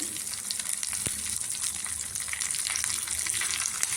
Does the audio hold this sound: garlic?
yes